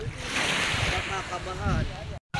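Steady wash of surf and breaking waves along a shore, with wind noise and faint voices mixed in, cut off abruptly near the end.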